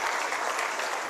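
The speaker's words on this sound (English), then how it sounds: "can we put a better hand clap for the Chief" Short burst of dense, steady audience applause at a Water Week 2023 ceremony, given for the chief guest of honor, continuous and fairly even throughout with no voices standing out.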